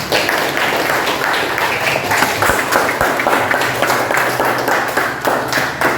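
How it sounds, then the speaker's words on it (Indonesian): A classroom of students applauding together after a lesson, a dense, steady patter of many hands clapping close by for about six seconds, with faint low hum underneath. "Oke, tepuk tangan."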